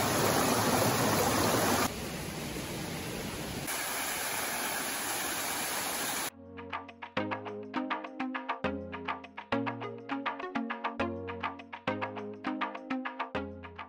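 Swollen rivers and waterfalls rush after a heavy overnight storm along a hiking route on Flores island in the Azores, a loud, steady broadband roar for about six seconds before music takes over.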